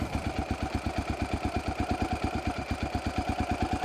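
A Honda XR650L single-cylinder motorcycle engine idles low and steady after a carburetor mixture adjustment, with an even, rapid thumping pulse and a mechanical whine throughout, close and fairly loud.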